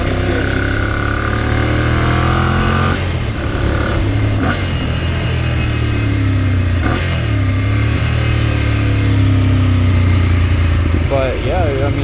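Ducati Monster 696 V-twin motorcycle engine while riding, a steady loud drone with rising and falling revs throughout, under continuous wind noise and someone talking.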